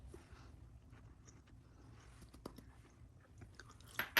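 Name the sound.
chewing crunchy cooked vegetable salad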